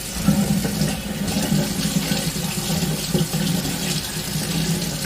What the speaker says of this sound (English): I just got to wash my hands